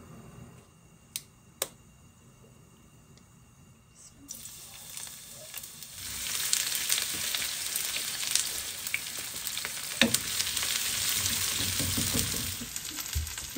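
Dried fish, shutki mixed with ribbonfish shutki, frying in a pan for a bhuna: a few light taps, then a loud, steady sizzle that swells and keeps crackling with occasional stirring clicks.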